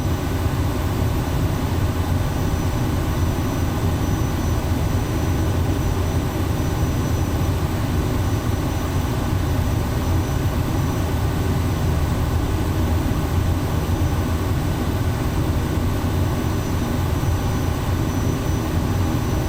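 Engine of an SWS Kodiak aircraft in Microsoft Flight Simulator 2024, a continuous loud, dense turbine-propeller roar held at a steady level throughout, with no voices.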